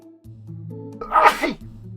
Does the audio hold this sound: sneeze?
yes